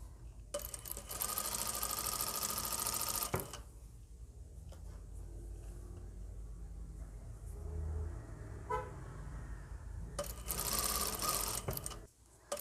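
A sewing machine stitches bias binding onto a cropped balloon-sleeve blouse, running in two loud steady bursts with a quieter stretch between them.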